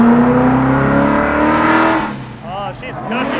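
A drift car's engine revs hard on the track, a loud rising whine that drops away partway through, with a person talking over it near the end.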